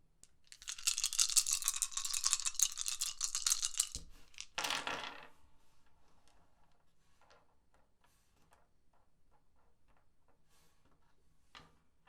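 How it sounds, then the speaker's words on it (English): Six dice are shaken and rolled, first a dense, loud rattle for several seconds, then a sharp tumble onto a surface, followed by faint scattered ticks as they settle, close up with no voices. "I've rolled a 2, 2, 5, 4, 5 and 2"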